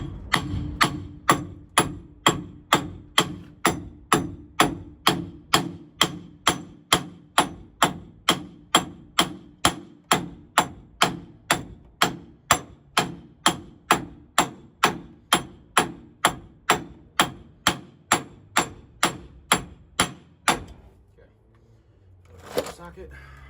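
Hammer blows ring out in a steady, rapid, evenly spaced run of loud metallic strikes while center bearings are replaced on a truck. Near the end they stop and a voice speaks briefly.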